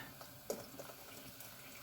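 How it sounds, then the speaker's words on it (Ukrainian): Water poured into a pot for quick borscht, a faint, quiet trickle and splash with a small clink near the start, heard alone. "От водичка поки я додам, тому що маловато."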